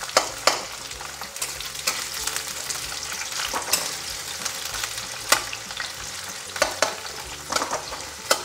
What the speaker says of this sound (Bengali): দিয়ে এবার পেঁয়াজটাকে একটু ভালো করে ভেজে নিতে হবে।